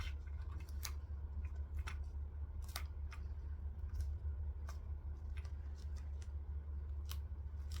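Scissors snip through the thick fabric corner of a sewn bag in a few sharp, close clicks over a low steady background hum.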